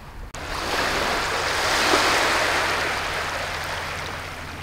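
Small sea waves wash in at low tide in a Scottish harbour, a close, broad hiss of surf that swells to a peak and then slowly ebbs, after a short thump at the start.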